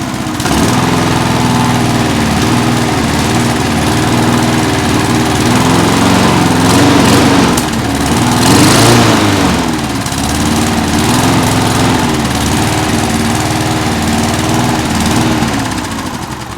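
A Klippo lawn mower, smoky and running rough, roars continuously at high revs with a steady droning buzz, loud and close, swelling slightly midway and easing near the end.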